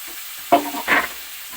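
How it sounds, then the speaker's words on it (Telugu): Green chillies sizzle as they are stirred into vegetable rice in a pan, two short bursts of frying and scraping close up, with quiet sizzling in between and no talking. "పచ్చిమిరపకాయలు కూడా వేసేసాను. మంచిగా వేగుతున్నాయి."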